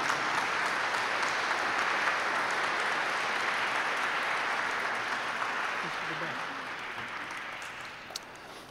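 An audience applauding to congratulate an award winner at a corporate governance forum, steady sustained clapping from a sizeable crowd that slowly tapers off near the end.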